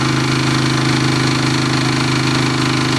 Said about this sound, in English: The generator's just now starting to die.